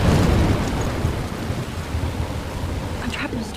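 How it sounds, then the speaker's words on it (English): A thunderstorm in the video game Life is Strange: deep rolling thunder rumbles loudly over a constant wash of heavy rain, fading slightly as it continues. "I'm trapped in a storm?"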